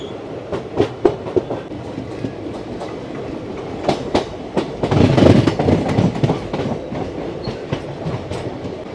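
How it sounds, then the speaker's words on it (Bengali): A passenger train runs from Kolkata to New Jalpaiguri, with steady rumbling and rhythmic clickety-clack of the wheels. The noise swells louder midway. "অনেকটাই লেটে চলছে ট্রেন"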